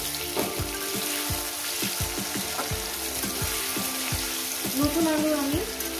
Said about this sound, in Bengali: আলুগুলোকে সুন্দর করে লাল লাল করে আমি ভেজে নেব